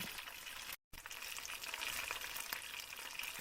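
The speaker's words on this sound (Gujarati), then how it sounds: "એક ચમચી રાઈ અને એક ચમચી આખું જીરું એડ કરી લેવાનું છે થોડા એટલે કે અડધી મુઠ્ઠી જેટલા સિંગદાણા નાખીને એકદમ ધીમા તાપે આપણે શેકા દેવાનું છે" Mustard seeds, cumin and peanuts roasting on a very low flame for Gujarati undhiyu: a soft, faint, steady sizzle with light crackles, briefly cut out near the start and then continuing evenly.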